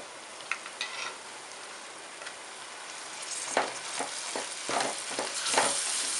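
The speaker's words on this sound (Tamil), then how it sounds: "தக்காளி வந்து நல்லா வதங்கணும்." Tomatoes, green chilli, coriander and mint sautéing in a pan for chicken biryani, a steady soft sizzle that grows as a spatula stirs in a series of scraping strokes near the end.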